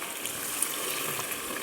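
Water poured into a pan of cooking fish curry, a soft steady gushing stream over a short stretch, close and fairly quiet, with no voices.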